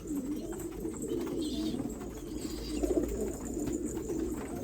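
Pigeons coo in a loft, soft repeated throaty rolling calls overlapping one another, fairly close, with low background rumble and no talk.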